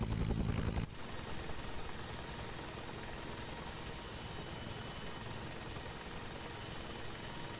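A helicopter hovering over a landing zone in the video game ArmA 3 churns with a continuous, broad rotor and engine roar that holds steady and fairly quiet after a brief louder start.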